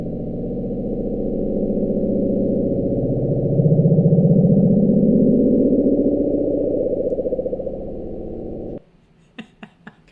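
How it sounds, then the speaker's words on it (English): The Bloop is an ocean recording played back sixteen times faster, heard as a loud, low, continuous rumbling drone with a rising sweep through the middle. After about nine seconds it stops abruptly, followed by a few faint clicks. "So the bloop was recorded in the ocean."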